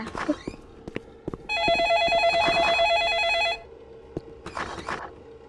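Telephone ringing in a Roblox ice cream shop game: a loud electronic trill rings steadily for about two seconds, then a shorter burst follows, amid clicks and taps with voices in the background.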